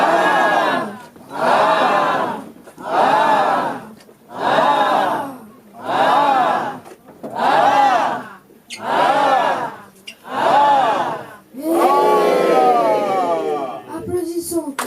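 A church congregation at an Easter 2025 service shouts acclamations in unison, with about eight loud rhythmic bursts of massed voices separated by short pauses. A longer, more ragged cheer follows at the end.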